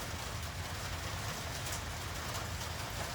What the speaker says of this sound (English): Dang, it's really starting to rain again.